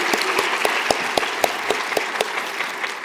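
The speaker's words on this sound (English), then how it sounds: "Let's give her a big round of applause." Audience applause at a workforce summit keynote honoring a planning committee member, a moderately loud crowd clapping with several sharp, distinct claps punctuating the steady patter.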